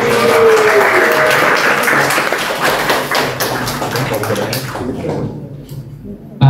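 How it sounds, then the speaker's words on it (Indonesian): A crowd at an Indonesian-language talk gives dense, close applause that gradually thins and fades after about five seconds, with a brief louder sound at the very end. "Terima kasih tepuk tangannya."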